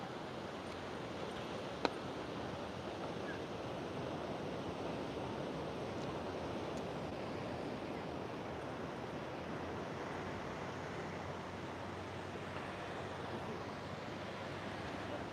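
Steady ocean surf washes against an oceanfront shore in a continuous broadband roar, with wind noise buffeting the microphone and no talking.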